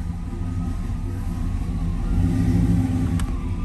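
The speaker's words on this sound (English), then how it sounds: "Car starts right up." The engine of a numbers-matching 1977 Chevrolet Nova runs, giving a steady, loud low rumble that swells slightly toward the end, with no talk.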